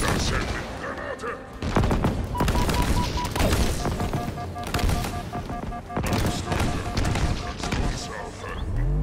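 Halo Infinite combat rumbles with heavy blasts and bursts of gunfire, including a grenade explosion, loud overlapping booms and rattling shots, with a voice talking underneath in places.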